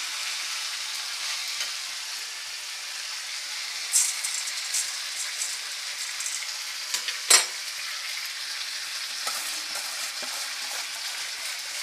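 Chicken and moong dal frying in a pan give a steady, close sizzle throughout, with a couple of sharper crackles and stirring scrapes breaking through.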